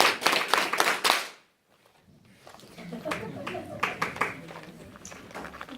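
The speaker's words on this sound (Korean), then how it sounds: "박수 3번만 쳐보세요" An audience at a business presentation gives a short burst of about five or six sharp, quick hand claps. Quieter speech and shuffling follow after a brief silence.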